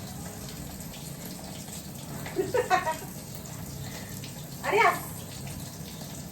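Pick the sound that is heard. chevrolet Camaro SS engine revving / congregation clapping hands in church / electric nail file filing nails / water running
water running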